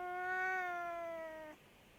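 A house cat gives one long, clear, steady meow close to the microphone, holding its pitch for about a second and a half before cutting off sharply into quiet room noise.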